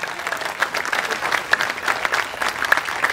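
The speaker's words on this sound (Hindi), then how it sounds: "तो और तालियों के साथ" Dense audience applause at the Murthal Mahotsav festival, a lively continuous patter of many hands with scattered sharper claps, loud and close throughout.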